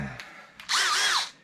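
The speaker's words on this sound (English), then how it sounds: "we just got to drill through the original slug tack" Power drill biting through a metal slug tack on a twin cam chopper motorcycle frame: two short trigger blips, then a loud rising-and-falling whine as the bit cuts for about half a second before spinning down.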